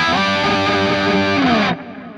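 Distorted electric guitar through a Kemper amp profile with the mids-forward Hot Knife effect switched off, a sustained rock chord ringing loud and steady before being cut off abruptly near the end.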